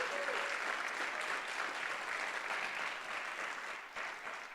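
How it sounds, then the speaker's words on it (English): Steady audience applause for a panel at a parents' safety summit in a high school hall, a dense even clatter of many hands that holds loud throughout and eases slightly near the end. "give our esteemed panel a round of applause"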